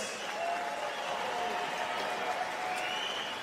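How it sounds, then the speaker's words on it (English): Crowd at a boxing event at Turning Stone applauds two fighters after an eight-round bout, a steady distant roar of clapping and cheering carrying under an announcer's amplified voice. "let's get a big Hall of Fame weekend round of applause for these two warriors"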